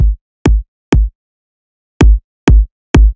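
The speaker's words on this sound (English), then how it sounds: "For the drum loop, I took two kicks." Two layered kick drums for a future house drum loop hit six times in two groups of three, each thump short, deep and dry, separated by clean silence.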